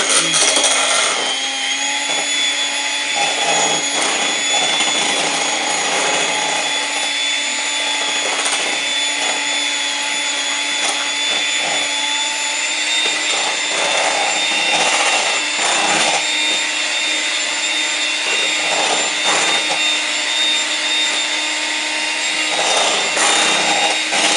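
An electric hand mixer whirs steadily at its highest speed while beating birthday cake batter into a thick paste, a continuous close-up motor whine with faint scraping, no talking.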